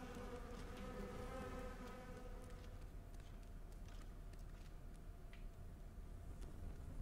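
Hornets buzz steadily around a nest in the video game Ghost of a Tale, a continuous close insect drone with no talking.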